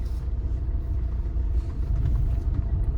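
An old Maruti Swift with over 300,000 km rolls along on clutch alone without throttle, giving a low, steady engine and road rumble heard from inside the cabin.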